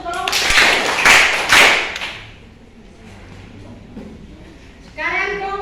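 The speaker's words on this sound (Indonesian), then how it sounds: "Kita beri aplaus untuk kelompok" A classroom of students gives a short burst of applause for a class group, with a few loud claps for about two seconds. The room then goes quiet and a voice speaks.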